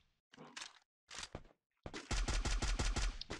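Rapid, loud gunfire in a first-person shooter video game, with SVD rifle shots, sounds as a burst of evenly spaced heavy shots in the second half after a few scattered earlier bangs, close and dominant.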